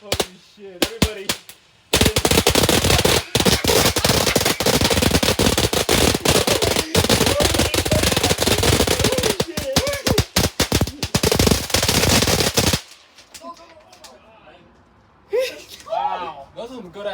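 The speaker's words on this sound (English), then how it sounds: "Those are some good ass fireworks." Fourth of July fireworks burst in a dense, loud barrage of rapid crackling bangs lasting about eleven seconds, with people talking and exclaiming before and after the volley.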